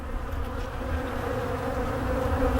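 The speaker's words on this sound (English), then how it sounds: "bees from other hives have found this hive" Robber honeybees from other hives swarm inside a weak beehive, a dense continuous buzzing hum, close and steady, with no voices.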